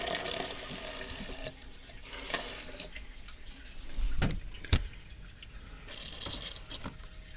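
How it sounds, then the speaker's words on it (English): Water running and dripping through a leaking RV bathroom sink, a steady wet trickle with a couple of louder splashes near the middle, close by and with no voices. "Okay, there's water coming through."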